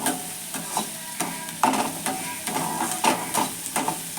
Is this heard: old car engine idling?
no